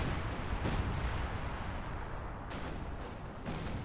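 Artillery barrage in Company of Heroes 2: a dense, continuous roll of booming shell impacts and rumbling blasts, loud and sustained throughout, with sharper crashes standing out near the start and toward the end.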